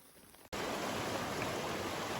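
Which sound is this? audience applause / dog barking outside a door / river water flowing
river water flowing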